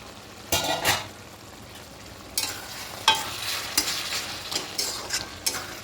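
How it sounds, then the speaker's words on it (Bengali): Potato, spinach and prawn curry being stirred in a pan, with a soft background sizzle and repeated scraping, knocking strokes of a spoon against the pan. "খুব ভালো করে একটু নেড়ে নেব"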